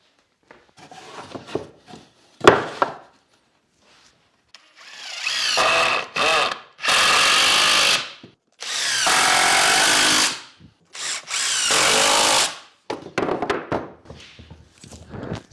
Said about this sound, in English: I'm just going to screw all these together.